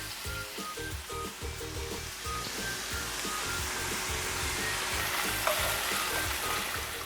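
Shrimp cooking in a hot pan, a continuous close sizzle with light stirring knocks underneath, steady and even throughout.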